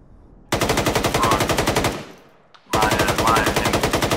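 Machine gun fire in a military video game, two long loud bursts of rapid, evenly spaced shots separated by a short fading pause, close and dominant.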